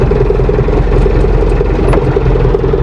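A loader tractor's diesel engine runs steadily close by on a farm while round straw bales are handled, a constant loud throbbing idle with a faint brief tone near the end and no talking.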